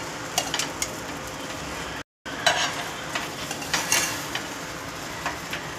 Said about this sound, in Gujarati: હલકા ઘીમાં પાવ શેકી લઈશું